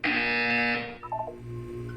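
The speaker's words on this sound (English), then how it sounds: "You will hear a buzzer." A loud, harsh electronic buzzer from the video game Portal blares for under a second, then softer tonal beeps and chimes follow.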